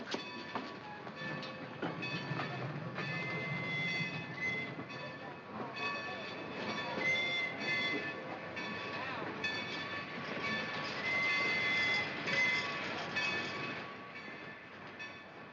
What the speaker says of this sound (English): Oh, the train, it's moving.